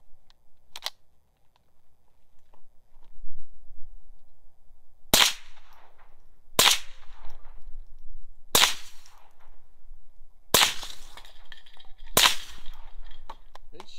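Suppressed .22 rifle shots from a folding .22 and a Hollow Sun 503 fitted with a Gemtech .22 suppressor ring out outdoors, six sharp cracks spaced a second or two apart after a quiet start.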